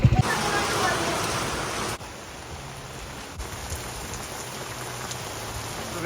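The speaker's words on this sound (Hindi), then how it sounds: "और बारिश इतनी ज़ोर से हो रही है" Heavy rain with big drops pouring down steadily, a dense loud hiss of drops hitting surfaces nearby, continuous throughout with no talking.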